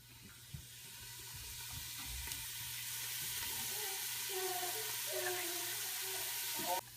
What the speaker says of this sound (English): So I'll saute these leeks for just a few minutes, just until they're soft.